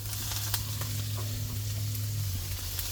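Chicken liver seasoned with a little salt drops into a hot pan and sizzles steadily, a continuous close frying hiss that holds even for a few seconds with no talking.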